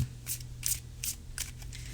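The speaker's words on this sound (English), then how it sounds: "And now let's cut shuffle." A deck of tarot cards being shuffled close up: about five quick riffling bursts in a row, over a faint low hum.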